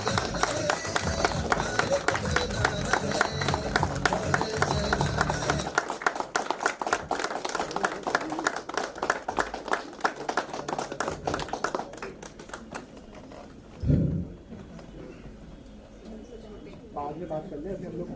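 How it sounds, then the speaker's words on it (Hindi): Applause from a crowd at the Moral Group's 14th anniversary event, a dense sustained clapping that fades off, with voices speaking over and after it. "जोरदार तालियां।"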